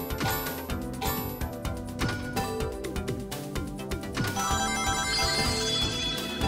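Rapid pinball-like ringing and chiming tones bounce in quick succession in the video game Sonic Frontiers, layered over busy game music with metallic jingles.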